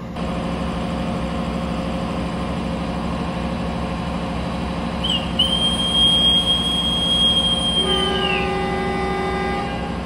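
A KA Bengawan economy train departs a station, its engine rumbling steadily at close range while a long, loud whistle tone sounds through the middle of the stretch.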